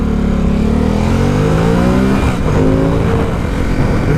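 A 2017 Ducati Supersport motorcycle engine accelerates loudly and close up, its pitch climbing through the revs, dipping briefly at a shift, then rising again over steady wind and road noise.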